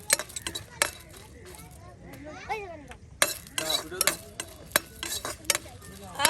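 Dried red chilies fry in oil in a home kitchen pan, a soft sizzle running under frequent clinks and scrapes of a stirring utensil against the pot, with voices talking nearby.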